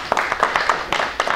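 Brief burst of audience clapping, a quick run of close claps at an even pace with no voices over it.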